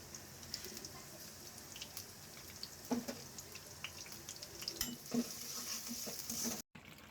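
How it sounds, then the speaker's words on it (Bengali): A pumpkin and shrimp curry cooking in a pan, a quiet steady sizzle with a few soft stirring scrapes and clinks, fairly faint and close, with a brief dropout near the end. "আজকে মিষ্টি কুমড়া দিয়ে চিংড়ি মাছ দিয়ে রান্না করতেছি"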